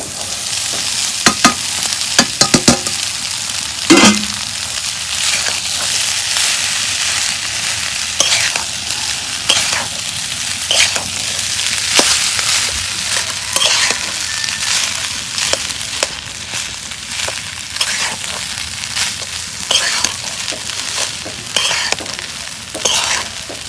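Leftover rice stir-fried with spices and browned onion in an oily pan, a steady close sizzle broken by repeated sharp scrapes and stirring clatters of the spatula, with no talking.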